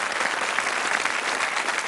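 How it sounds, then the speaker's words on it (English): A television game show studio audience breaks into applause, a short, dense burst of many hands clapping at an even level throughout. "Let's give a nice round of applause."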